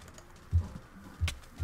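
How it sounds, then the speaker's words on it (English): Computer clicks during gameplay, a few sparse, dull taps spaced irregularly, close and quiet, with no speech. "I hear you clicking."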